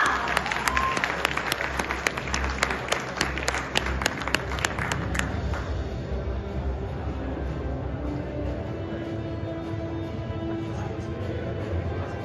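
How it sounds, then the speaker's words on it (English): Brisk applause from a crowd at a blockchain tourism and hospitality event claps loudly for several seconds, then thins out and fades into a low murmuring room tone. "Please give them another round of applause."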